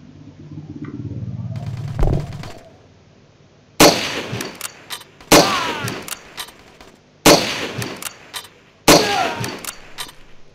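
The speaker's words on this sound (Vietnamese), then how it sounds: "Cái tiếng súng." Four loud, sharp gunshot bursts ring out at spaced intervals after a quieter stretch of sounds in the shooting game Striker, each with a short metallic echo.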